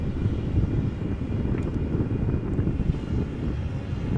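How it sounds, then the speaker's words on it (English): A KLM Embraer 190 jet approaches Amsterdam Schiphol, its engine roar a steady, loud broadband rumble that holds for the whole span, mixed with outdoor wind noise and no voices. "Coming this way is an Embraer 190 KLM flight 1345 destination Billund."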